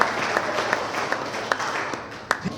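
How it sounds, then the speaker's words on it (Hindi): Audience applause at a community meeting in Nalanda, Bihar, a steady crowd patter of many hands with a few sharper claps standing out, moderately loud and continuous. "एक जोरदार तालियां चाहूंगा।"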